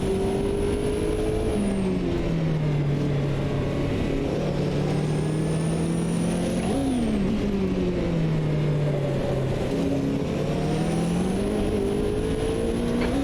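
A Nissan R89C race car in a Brands Hatch racing game, its engine screaming close and loud as it climbs through the revs, drops sharply on upshifts and climbs again in repeated waves.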